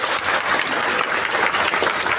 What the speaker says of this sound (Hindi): एक जोरदार ताली रिएक्शन के लिए